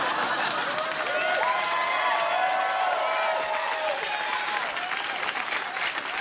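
Studio audience applause on a late-night talk show, a loud, dense, sustained roar of clapping from a large crowd, with light cheering mixed in.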